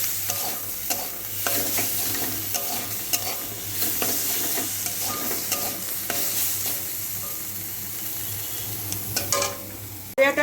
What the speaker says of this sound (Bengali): সামান্য একটু জিরে গুঁড়ো দেব দিয়ে ভালো করে ভাজবো